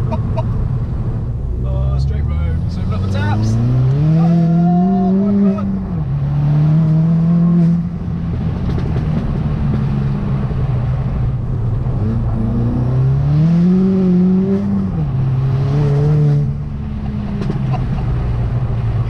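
A tuned 330-horsepower Ford Fiesta ST MK7 accelerates hard through the gears, its engine note rising loud and close in two long pulls with shift dips between them, heard from inside the cabin.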